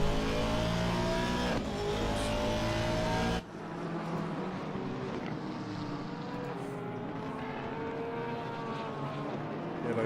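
Race cars at Imola, including a BMW, Ferrari and Porsche, roar past: one loud engine drone cuts off suddenly, then a lower, steadier hum of several cars continues at a distance.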